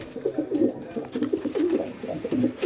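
Several pigeons, a mix of fancy and desi birds kept with chicks and eggs, coo in a loft in low, repeated throaty phrases that fill the whole stretch, close and fairly loud with no talk over them.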